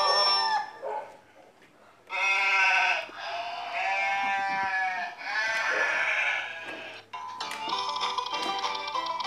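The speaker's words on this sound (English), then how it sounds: "And on this farm he had a sheep" Sheep bleats sound in the Old MacDonald Had a Farm children's song, several loud, wavering calls in quick succession over the bright musical backing.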